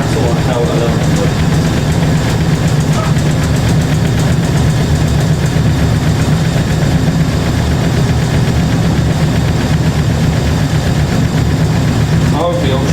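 A Hoover A3060 Electronic washing machine spins at 1100 rpm with a loud, constant drumming roar and a dense rattle running the whole time, with no pause.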